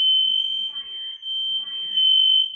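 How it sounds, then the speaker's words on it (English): A household smoke alarm goes off with a loud, piercing continuous electronic tone, close by, with faint voices underneath. "The fire alarm went off."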